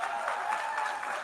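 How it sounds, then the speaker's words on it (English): The Israeli delegation claps for Netanyahu's speech at the UN General Assembly hall, a steady, even wash of many hands applauding at moderate distance for the whole stretch, with no talking over it. "It's just Israel clapping"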